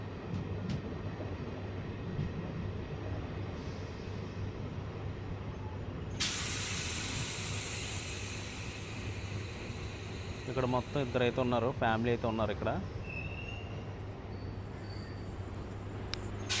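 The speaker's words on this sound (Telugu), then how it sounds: "మా ట్రైన్ అయితే ఆరావళి స్టేషన్ నుంచి అయితే స్టార్ట్ అయిపోయింది" A MEMU passenger train starting out of Aravalli station in India, a steady low rumble with a sudden loud hissing burst of air partway through, while someone talks over it.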